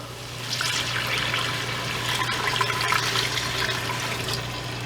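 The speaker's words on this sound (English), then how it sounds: "This is just about 3 cups of water." About three cups of water pour into a cooking pot in one steady, close splashing stream lasting several seconds.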